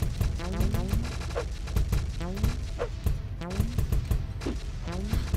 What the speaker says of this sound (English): I do like bombarding them with the missiles though.